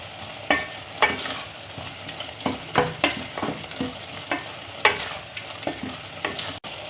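Spiced minced beef keema with red chilli powder and turmeric being stirred in a pan, with a continuous sizzle under rhythmic, close scraping strokes of the spoon, and no voices.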